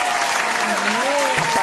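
Dense, steady applause from a crowd runs through the short stretch while a voice speaks over it, reacting to the India vs USA T20 World Cup 2024 cricket match.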